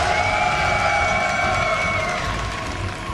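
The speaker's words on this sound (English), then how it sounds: "And the crowd is like, all right, QXC, shut up. We're clapping" A crowd cheers and claps at an IEM Toronto StarCraft 2 tournament, a dense roar of many voices with tonal shouts, loud and sustained before easing slightly.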